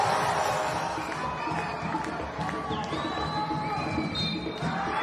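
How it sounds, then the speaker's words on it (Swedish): Crowd in the stands of a football match between Dalkurd and AFC Eskilstuna roaring and cheering after a goal, a steady wash of distant voices and whistles with a commentator talking over it. "Och jubel på läktarna."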